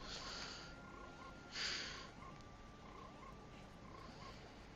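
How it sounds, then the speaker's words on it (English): Faint frog croaking serves as the low-health warning in an Ocarina of Time randomizer video game, with soft repeated croaks over quiet game ambience and a brief brighter burst partway through. "I'm so pleased I changed the heart beeping sound to the frog sound."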